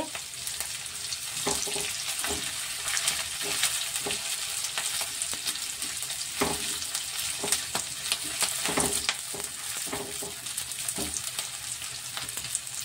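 Chili paneer being stirred in a frying pan, a steady close sizzle broken by repeated scraping and clacking strokes of the spoon against the pan, with no talking.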